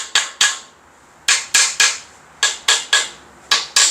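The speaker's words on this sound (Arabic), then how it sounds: "بنروح جايبين شاكوش وجايين هوريك كده الصوت بتاعها" A hammer strikes a rebuilt engine crankshaft fitted with new bearings, a series of sharp metallic taps, single and in quick pairs, loud and close with brief silences between.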